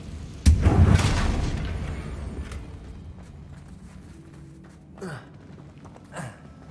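A Confringo fire-blast spell explodes in the Hogwarts Legacy video game, one loud close boom with a rumbling tail that fades over several seconds, followed by two faint short whooshes.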